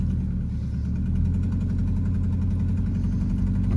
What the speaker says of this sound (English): That's just ricer exhaust.